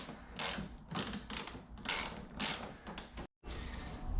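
A ratchet clicks in rapid bursts while removing fender bolts on a C6 Corvette, repeated buzzing ratcheting strokes up close with a brief silent pause near the end.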